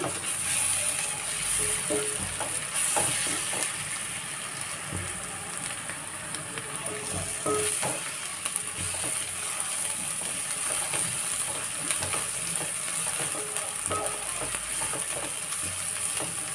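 Ginger garlic paste frying in oil in a pan, a continuous soft sizzle with occasional stirring clicks, heard alone at moderate level.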